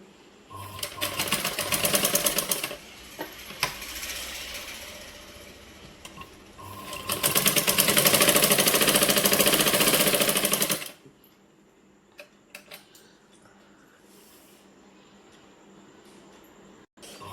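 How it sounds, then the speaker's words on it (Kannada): An electric sewing machine stitches old saree fabric in two long, loud, fast-running bursts separated by a short pause, then stops, leaving quiet room sound. "ನೋಡಿ ಈ ಥರ ಏಕೊಂಡು ಹೊಲಿಗೆ ಹಾಕೊಂಡ್ಬರ್ತೀನಿ"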